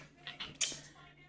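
A squeaky table gives a few short creaks and taps in quick succession, faint and close, ending in one sharper squeak.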